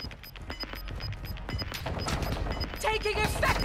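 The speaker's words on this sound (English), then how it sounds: "Oh, they're shooting from outside now." Gunfire in Warzone 2 from shooters outside on a building rooftop, repeated sharp shots in quick bursts over a noisy battle background, with dense volleys building toward the end.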